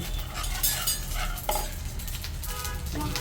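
A ladle stirs food sautéing in a pan in a home kitchen, with close scraping and clinking over a steady soft sizzle.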